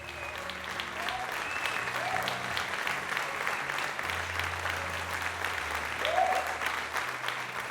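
Loud audience applause fills a tent at the Jaipur Literature Festival, a dense, sustained wash of clapping from a large crowd with faint tonal sounds drifting through.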